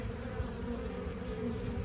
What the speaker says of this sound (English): And all the bees are kind of circled around her. But that is the queen bee.